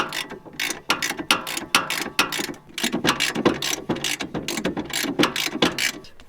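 Ratchet wrench tightening a suspension bolt on a third-generation Honda CR-V during a lift kit install: rapid, loud metallic clicking in uneven bursts with brief pauses, close to the microphone.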